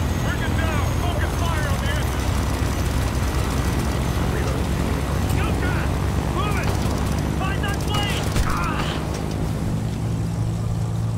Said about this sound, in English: The other plane's starting to roll.